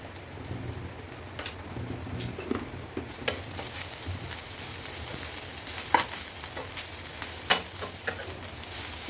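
Banana flower pieces sizzle and crackle in a hot pan, a steady hiss broken by sharp pops and occasional stirring scrapes.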